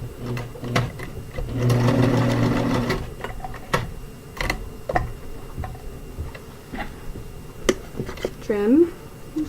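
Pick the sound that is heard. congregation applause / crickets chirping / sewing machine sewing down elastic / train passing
sewing machine sewing down elastic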